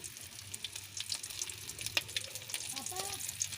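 Smoked fish (tinapa) fries in a pan with a faint, steady crackling sizzle and small pops, and a voice briefly murmurs near the end.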